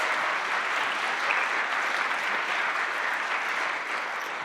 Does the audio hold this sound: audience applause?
yes